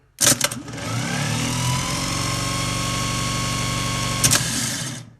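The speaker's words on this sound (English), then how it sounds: "The brand new starter is ready to go. We have all of our wiring hooked up, and so we will make the connection." New car starter motor on a bench test, spinning with a sharp click at connection, then a steady loud whirring drone for about four seconds before another click and spin-down.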